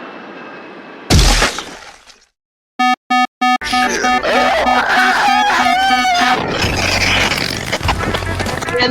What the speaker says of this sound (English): And the plane crashed.